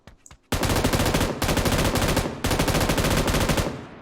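M249 machine gun in PUBG New State firing loud, sustained automatic bursts, about three long strings of rapid shots with brief gaps between them after a short quiet lead-in.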